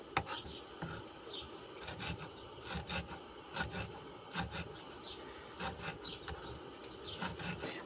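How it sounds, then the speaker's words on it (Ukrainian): A knife finely chopping parsley and dill on a board, giving steady, quick, soft taps and rubbing scrapes at close range. "Я взяла петрушку і кріп. Ріжемо дрібненько."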